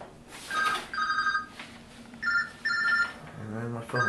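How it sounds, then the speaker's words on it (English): A mobile phone rings inside a house, repeated short tonal ring bursts in a patterned rhythm, close and clear, with someone talking briefly near the end. "And then my phone's ringing."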